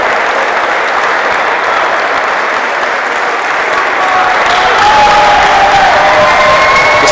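A crowd in a futsal sports hall in Montecchio Maggiore applauds as Real San Piero players receive silver medals, a loud continuous clatter of clapping with scattered cheers and a thin whistle-like tone rising near the end.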